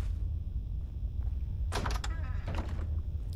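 A door in Fallout 4 opens with a sudden sliding, mechanical whoosh and a few rattling clunks over a low background hum.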